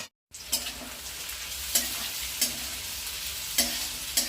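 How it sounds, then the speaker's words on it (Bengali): Vegetables stir-fry over a high flame Chinese-style, a steady close sizzle with a spatula scraping and tossing the pan in sharp strokes roughly once a second; nobody speaks. "সবজিগুলো সব ভাজা হচ্ছে, হাই ফ্লেমে ভাজা হবে"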